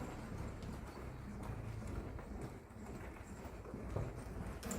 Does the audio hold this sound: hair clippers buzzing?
no